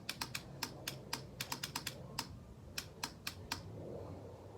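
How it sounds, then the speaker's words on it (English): Starter on a Honda Shadow Sabre 1100 motorcycle clicking without cranking: about a dozen sharp, quiet clicks in an uneven rhythm, some in quick bursts, over faint background. "All we're getting is a clickety click"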